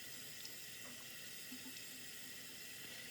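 Lukewarm tap water runs steadily into a sink or container, prepared for soaking a leopard gecko with stuck shed; a faint, even hiss of flowing water with no speech.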